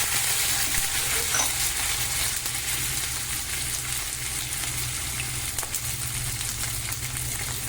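Onions, dal and cumin are stirred in a hot pan, a steady dense sizzle of frying with soft scraping stir sounds running through it, close and uninterrupted.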